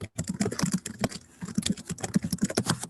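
Someone types fast on a computer keyboard close to the microphone during an online meeting, a dense loud patter of key clicks with no pause.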